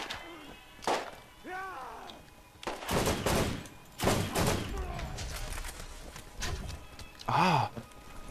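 Rapid bursts of gunfire from the video game Borderlands crackle in several separate volleys, mixed with chirping game effects, with occasional faint voices underneath.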